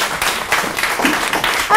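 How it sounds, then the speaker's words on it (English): A live audience at a hypnotherapy business meeting claps in a brief, dense burst of applause lasting under two seconds, fairly close and continuous. "Give them a round of applause."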